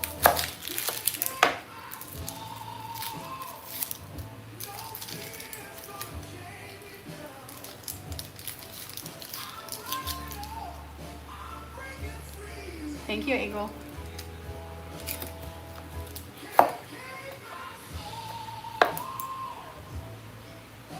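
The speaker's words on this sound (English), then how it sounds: "I'm gonna start chopping the onions." Knife chopping onions on a board in a home kitchen, scattered quick taps in short runs, faint and close, under a voice talking.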